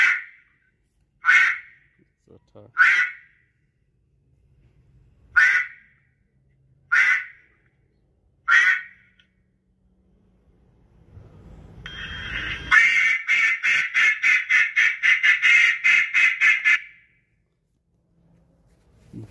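An electronic duck call plays separate single quacks, loud and close, then a fast run of rapid quacks lasting a few seconds before stopping, with no talking.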